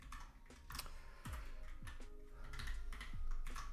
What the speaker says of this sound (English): The typing is annoying.